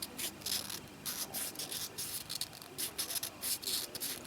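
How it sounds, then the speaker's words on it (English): Wet and dry sandpaper worked by hand to ream out a hole, giving a steady, close rubbing and scraping in short repeated strokes with a faint hiss, no voices. "Got a bit of wet and dry in there. So essentially we use that to try and ream that out."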